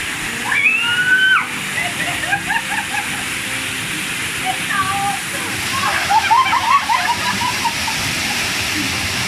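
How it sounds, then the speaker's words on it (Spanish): Steady roar of the broad Cascada Zuro 2 waterfall in Yangana, Loja, Ecuador, continuous and close, with splashing and a few faint voices or whistles over the rushing water. "Realmente está bien bonita la cascada"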